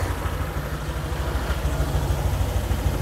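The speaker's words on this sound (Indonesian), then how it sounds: "ini belum digas, harus rada digas dulu nih biar rollernya naik." A scooter engine runs close by with a steady low throbbing, lightly revved so the CVT rollers move outward, the rumble holding fairly even throughout with no talking.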